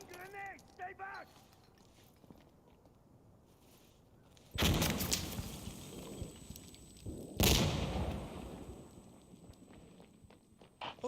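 Two heavy grenade-style blasts from a tense online multiplayer round of Insurgency: Sandstorm, each a sudden loud broadband burst with a rumbling tail, the second following about three seconds after the first, with brief talk before them.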